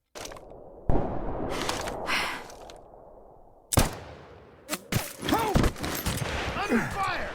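Gunfire in a Fallout fan animation: bursts of shots and impacts cut between stretches of rumble, with shouted voices and yelling in the later seconds.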